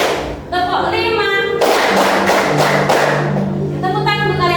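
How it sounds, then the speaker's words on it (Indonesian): A classroom of students claps hands together, a burst of sharp, dense claps following a teacher's voice, then fading as talk resumes near the end. "Tepuk tangan untuk kalian semua."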